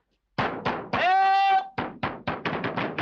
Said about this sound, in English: Keep banging.